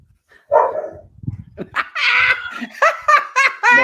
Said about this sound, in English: My dogs. I apologize. They've been quiet all night, and then it's showtime, and they want to act a fool.